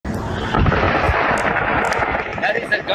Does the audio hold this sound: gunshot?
yes